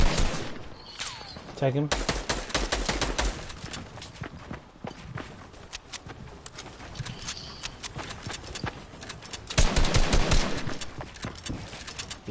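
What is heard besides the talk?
gunfire in a video game (Fortnite)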